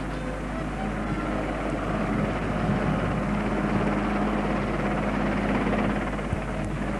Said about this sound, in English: As the helicopter approaches the dropping zone, the spire begins swinging like a giant pendulum.